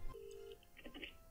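Phone dialing in a Minecraft setting: a steady electronic tone followed by a few short beeping dial tones, faint and alone with no talk.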